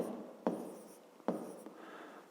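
Numbers written by hand with a pen on paper in a fifth-grade math lesson: quiet close scratching with two distinct tapping strokes and a faint lighter scrape toward the end.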